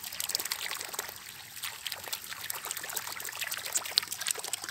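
A thin stream of water trickles and splashes steadily, quiet and close, with a few small drips breaking through.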